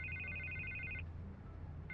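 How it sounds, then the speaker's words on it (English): Telephone ringing in the Batman Telltale Series video game: an electronic ring runs for about a second, pauses, then starts again, over a low steady background hum. "I can't get the phone to stop ringing."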